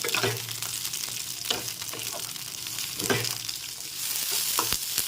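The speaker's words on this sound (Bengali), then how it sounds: "তো এখন সব একসাথে দিয়ে দিলাম। একটু হালকা করে ভেজে নিতে হবে।" Cardamom, cinnamon, ginger, cashews and garlic lightly frying together in a pan, giving a steady close sizzle with a few stirring scrapes and no talk.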